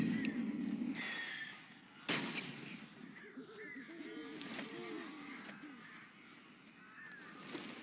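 Crows cawing in the video game Alan Wake, a scatter of harsh calls over a low dark ambience with a sharp burst partway through and other game sounds around them.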